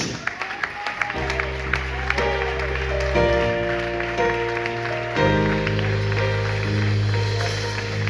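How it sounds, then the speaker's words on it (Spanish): A church congregation claps and cheers in sustained applause while music plays loudly alongside it. "¿Puedes dar ese aplauso a Dios?"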